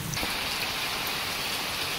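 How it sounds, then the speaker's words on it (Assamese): Heavy rain pours outside in a dense, even patter that fills the whole moment, with a single faint knock near the start and no voices. "বাহিৰত বিৰাট ডাঙৰ বৰষুণ আহি আছে বৰষুণৰ চাউণ্ড পাব পাৰে দেই"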